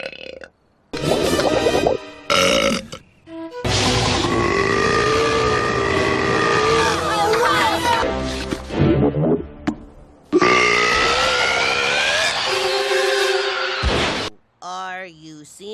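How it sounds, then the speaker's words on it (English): Animated female character burping: several long, loud, tonal belches lasting seconds each, with short gaps and brief voices between them. "That was my celebration burp."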